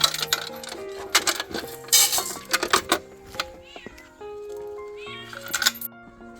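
Stray cats meow a few times while waiting for food, amid clattering and tapping noises, with steady tonal music running underneath.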